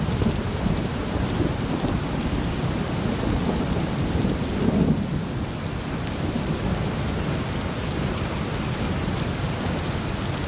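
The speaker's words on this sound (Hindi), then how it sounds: "फरियाल, ये बारिश में क्या कर रही हो?" Steady heavy rain pours down in a thunderstorm, with low thunder rumbling through the downpour and a brief swell near the middle; no voices, just the continuous wash of rain.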